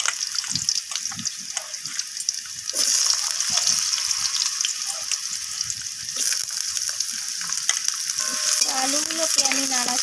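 Cubed potatoes stirred and fried in oil with panch phoron spices in a pan, a steady close sizzle running throughout with spoon scrapes and stirring clatter over it.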